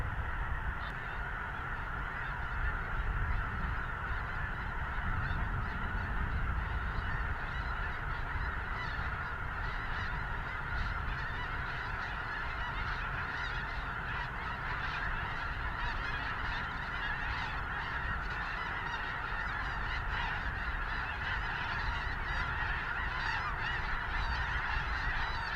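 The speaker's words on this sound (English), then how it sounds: "they're just geese" A large flock of snow geese honks continuously in flight during a North Dakota goose hunt, a dense, loud, overlapping chorus of calls that never lets up.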